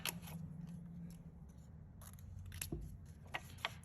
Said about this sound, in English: I'm just going along here and I'm just cutting everything out